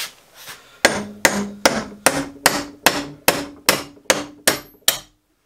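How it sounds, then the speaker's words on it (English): A hammer strikes a silver ingot to hack off a piece, landing about ten sharp metallic blows in a steady, even rhythm, close up and loud, each with a short ringing decay. "let's do something with a hammer"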